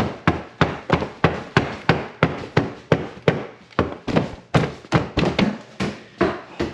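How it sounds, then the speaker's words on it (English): Heavy hammer blows struck in a steady rapid series, roughly two per second, each a loud, close, sharp impact, during work on a massive rat infestation. "Hammer time."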